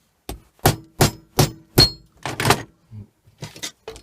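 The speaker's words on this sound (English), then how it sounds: "Take an hammer," Hammer blows on a dishwasher solenoid being broken apart to get at the copper winding for scrap: about six sharp, close metallic strikes in a steady rhythm, then a few lighter knocks and clinks with no talking.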